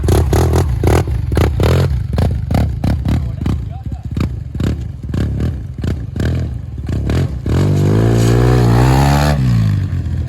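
A 2016 Yamaha TMAX 530 scooter revs hard and takes off, loud rising engine roar close by after choppy throttle blips, with people talking over it.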